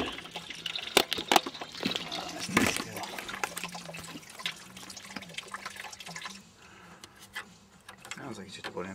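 Coolant draining from the radiator of a Mazda RX-7: a faint, uneven trickle and dripping of liquid runs under scattered knocks and handling noises, louder early on and thinning out toward the end.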